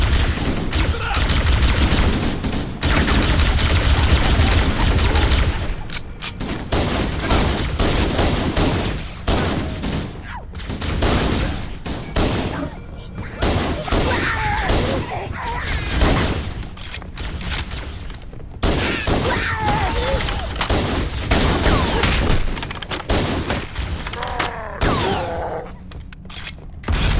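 Sustained gunfire from a Halo firefight against the Covenant, with dense bursts of automatic fire and loud shots rattling almost continuously, briefly thinning between volleys before picking up again.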